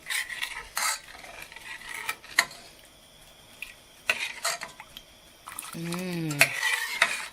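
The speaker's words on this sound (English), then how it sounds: "I'm just moving my spoon around just to stir it up" A spoon scrapes and stirs through a creamy ranch sauce in a pan, with irregular scraping strokes and clinks over a soft sizzle and a few tonal squeaks near the end.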